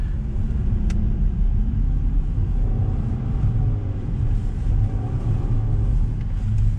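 A LADA Vesta SW Cross 2020 with an automated manual gearbox crawls through deep snow in first gear. Its engine gives a loud, steady low rumble with no clear gear changes, and there is almost no talk.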